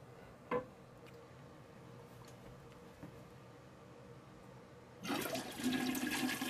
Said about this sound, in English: As you activate the flushing mechanism, the water will drain out of the top tank into the bowl, flushing the toilet.